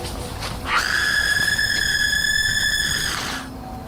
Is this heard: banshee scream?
yes